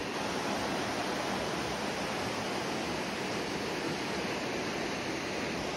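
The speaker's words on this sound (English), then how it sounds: "And there's the river, baby." A glacier-fed mountain river in Washington rushes steadily, a loud, continuous broadband roar of flowing water close by with no voices.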